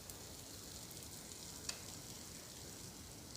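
Amra (hog plum) pieces fry in a pan with a faint, steady sizzle and hiss, broken once by a tiny click midway, with no voices.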